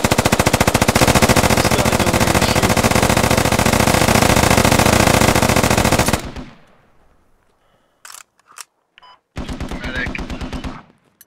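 Rapid automatic gunfire in the Squad military shooter hammers loud and close for about six seconds, then stops; after a near-silent gap, a few scattered shots crack before another sustained burst.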